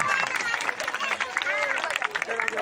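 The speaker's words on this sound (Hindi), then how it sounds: "एक बार जोरदार तालियां बजाएं" A crowd at a Haridwar Maha Kumbh procession claps enthusiastically for the tableau performers. The busy applause is mixed with crowd murmur, and a voice talks over it throughout.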